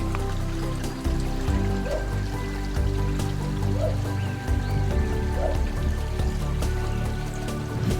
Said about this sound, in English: There's the river that goes there.